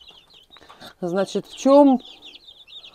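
Young crossbred chicks nearly three weeks old peep constantly at a high pitch, with louder clucking bursts in the middle, while someone speaks close by.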